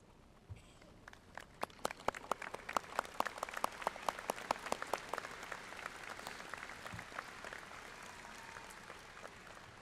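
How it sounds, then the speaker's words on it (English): Applause from a commencement audience at a spring graduation ceremony on the Gulf Coast, honoring the faculty: sharp individual claps build into a dense, sustained ovation that stays fairly distant and even before slowly thinning. "join me in applauding them and thanking them for bringing you to this"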